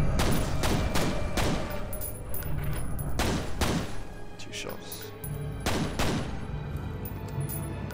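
Repeated heavy gunshots from the first-person shooter F.E.A.R. boom out in loud, evenly spaced blasts over several seconds, each ringing briefly into a low, dense game backdrop.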